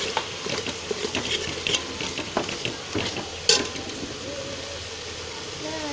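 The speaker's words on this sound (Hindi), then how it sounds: "और इसको अच्छी तरह से भून लेंगे।" Masala with onions and chili powder fries in a pot for a white lobia curry, with soft sizzling and a run of spoon scrapes and clinks as it is stirred; a voice speaks briefly in the background.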